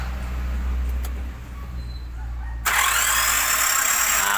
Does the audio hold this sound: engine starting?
yes